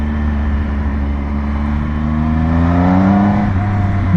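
2020 Triumph Speed Triple RS motorcycle accelerating in second gear, a smooth rising engine drone with climbing harmonic pitch, loud and close, wind noise underneath and no talking.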